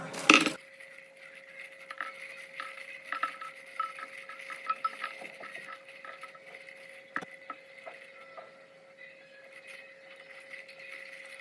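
Dry fruits and walnuts being roasted in a pan for homemade energy balls, with a soft, steady scraping and stirring patter and occasional light clinks from the utensil, close and fairly quiet after a brief louder knock at the start.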